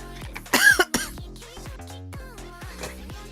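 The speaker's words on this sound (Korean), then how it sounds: "원래 이렇게까지 기침 안 했는데" A woman coughs close to the microphone, with a loud cluster of harsh, throaty coughs near the start followed by several softer coughs and throat sounds.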